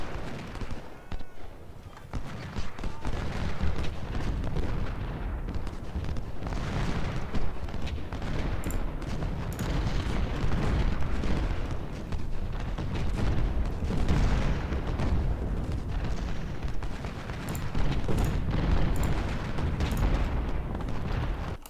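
Dense, continuous battle roar of massed cannon artillery and musket volleys in the Civil War strategy game Ultimate General: Civil War at Saunders Farm, booming steadily throughout with sharp cracks layered over a low rumble.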